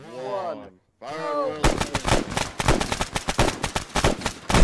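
Gunfire in the video game Arma 3: a brief voice, a short pause, then a sudden, dense barrage of loud, rapid shots that rattles on without a break to the end.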